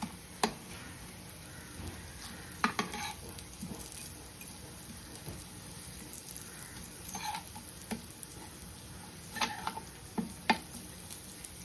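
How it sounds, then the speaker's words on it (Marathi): Slices of suran (elephant foot yam) frying in oil, a soft crackling sizzle with scattered pops and ticks as pieces are flipped with a utensil, close and quiet, no speech. "सुरण आपला एका साईडनी फ्राय झालंय हे पलटून घेऊया"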